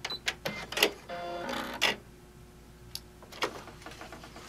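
A sewing machine tacks the end of a fabric seam at a 2.5 stitch length while sewing a fabric balloon ball. Close, short bursts of mechanical whirring and clatter start and stop with brief pauses between them.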